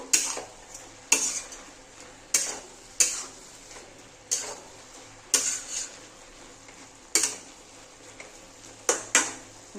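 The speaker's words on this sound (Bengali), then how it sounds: "এবার না আমি একটু নেড়ে দেবো, নেড়ে আবার ঢেকে দিয়ে দেবো" A spoon stirs ash gourd and mung dal curry in a pot, giving repeated sharp clinks against the pot rim at irregular intervals, close by, over a soft background hiss.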